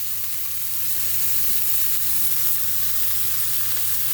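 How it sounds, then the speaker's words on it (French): Pieces of pork filet mignon searing in a hot pan give off a loud, steady sizzle with a constant hiss and a low hum beneath, with no talking. "Il faut que la viande soit un peu saisie."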